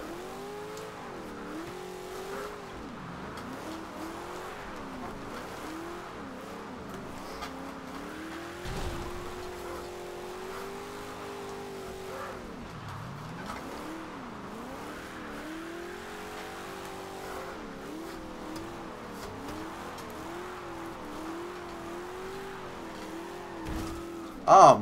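A Chevelle SS drifts in Forza Horizon 2 on a drift build and tune, the engine holding a high, wavering rev that dips and climbs as the car slides through turns, with a brief loud burst at the very end.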